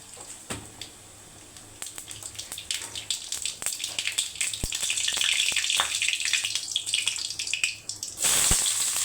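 Mustard seeds dropped into hot oil for beetroot poriyal, with sharp popping crackles that build into a dense, close sizzle and end in a louder burst of frying.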